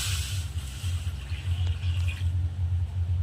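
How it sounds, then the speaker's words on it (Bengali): Water runs steadily from a vessel into a wok set on a clay stove, a continuous close splashing pour lasting a few seconds. "কড়াইতে দেবো জল।"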